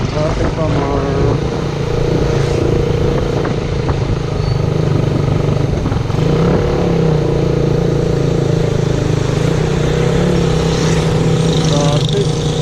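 Heavy road traffic in Pangasinan hums steadily and loudly close at hand, cars and motorcycles idling and revving in a constant engine drone with occasional louder surges.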